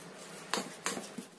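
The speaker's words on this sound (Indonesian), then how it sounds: "Kita aduk lagi sampai semua tercampur rata." A spoon scraping and clinking against a bowl while a chicken wing filling mixed with cornstarch is stirred, giving three quick, close scrapes over a quiet background.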